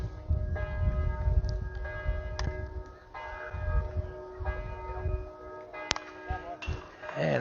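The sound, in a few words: church bells ringing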